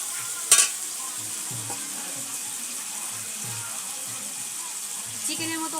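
Ground coriander-cumin paste stirred into frying chicken bhuna masala gives a steady soft sizzle, with one sharp clink of the spoon near the start and a faint scrape later. No one speaks.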